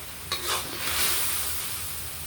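Fried tilapia is stir-fried with celery in a wok, giving a soft, steady sizzle with a few quick scraping stirs of the spatula near the start.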